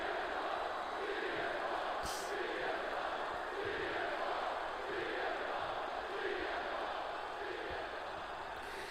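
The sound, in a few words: crowd cheering in WWE 2K24 video game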